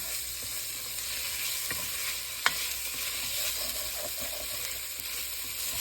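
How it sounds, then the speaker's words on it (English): Garlic and onions sizzle in a pan for roast beef, an even continuous hiss with a few soft scrapes and one brief sharp tap, fairly quiet and close. "then you put that garlic in like that. Let that swirl around for a bit."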